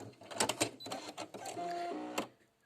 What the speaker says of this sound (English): stitch out the placement stitch for that